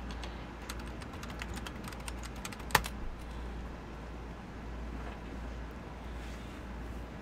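Computer keyboard typing during play of the Space Quest game, with quiet, steady key taps and one sharper louder keystroke midway, heard over a low background hum without speech.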